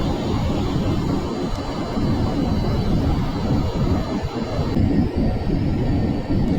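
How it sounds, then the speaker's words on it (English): Jet engine on afterburner roars in Kerbal Space Program, a loud broad steady thrust with low rumbling turbulence, sustained throughout and close, with no talk over it. "Which we're about to kick into afterburner mode here."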